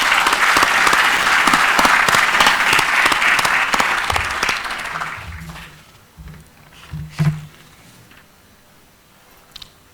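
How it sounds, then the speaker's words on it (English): Dense audience applause at a celebration marking a 50th and 20th anniversary fills the first five seconds, then fades out, leaving a quiet room with a few scattered knocks and small handling sounds. "give ourselves a big clap for being 50 and 20"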